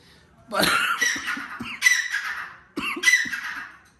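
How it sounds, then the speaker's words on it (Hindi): Pet partridges giving loud, close squawking calls in three harsh bursts separated by short pauses. "हमारे तीतर हैं।"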